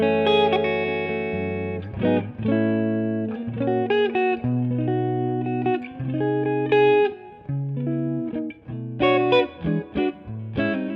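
Clean electric guitar on the neck pickup through a Two-Rock Classic Reverb amp, playing rhythmic chord stabs and short melodic fills with gaps between phrases, close and solo without talk.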